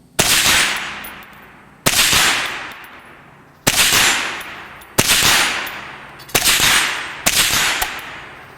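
Six sharp, loud gunshots from a Bear Creek Arsenal BC-202 .22 Magnum fire at uneven intervals about a second or two apart, each crack ringing out and decaying before the next.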